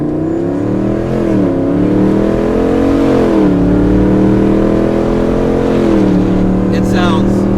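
A 600 hp Hemi-swapped Jeep Wrangler engine revs and pulls hard from inside the cab, its deep harmonic drone rising and falling through several gear surges, loud and steady throughout.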